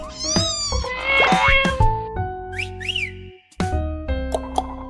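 Several pet cats meow loudly and up close in a string of drawn-out, wavering calls with brief pauses between them, and no talking.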